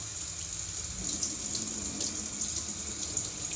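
Water from a tap runs steadily over a vinyl record being rinsed, a continuous close hiss and splash with slight surges, heard alone without talk.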